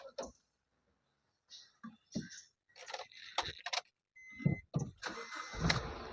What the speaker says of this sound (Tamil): இப்போ நம்ம இன்ஜினை ஸ்டார்ட் பண்ணியாச்சு.